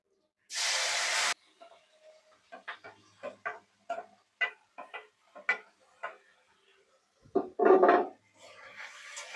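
Small fish dropped into a hot, lightly salted pan for a fish paturi recipe: a sharp burst of hissing, then scattered small ticks and crackles, and a second loud sizzle surge near the end, close and otherwise quiet.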